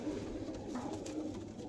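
Racing pigeons coo softly in a loft, low murmuring calls that repeat faintly beneath a steady hum of background noise.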